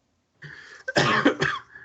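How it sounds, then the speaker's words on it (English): A short, close cough in a couple of rough bursts, with throat clearing mixed in, preceded by a brief silence. "Now you're making me cough."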